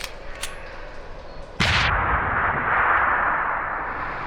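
A gun fires in the video game Deus Ex: Human Revolution with one sharp, loud blast and a booming tail that rings on, after quieter game ambience and a faint click.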